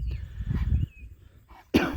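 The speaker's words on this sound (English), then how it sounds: "got some coughing going on" A cow with respiratory trouble gives one harsh, close cough near the end, following a stretch of low, muffled rumbling.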